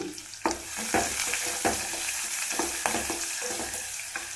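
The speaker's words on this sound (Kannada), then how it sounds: "ಈರುಳ್ಳಿ ಹಾಕಿದ್ದೀನಿ ಸ್ವಲ್ಪ ಕರಿಬೇವು ಹಾಕ್ತೀನಿ" Onion and curry leaves frying in oil for a beans fry, a continuous close sizzle punctuated by regular spatula scrapes and knocks against the pan.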